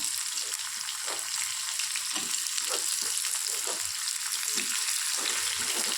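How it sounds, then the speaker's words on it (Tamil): Two large onions, cut into long slices, sizzle steadily in a pan for a potato kurma, a continuous bright crackle with occasional low stirring bumps and no talking. "வெங்காயம் வந்து நல்லா வதங்கணும்."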